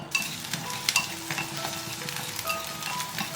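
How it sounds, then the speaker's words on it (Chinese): Chopped aromatics such as garlic and fermented black beans are stir-fried in chicken-frying oil in a clay pot, giving a steady close sizzle with light scraping and stirring noises throughout. "然后把料头放进来爆香"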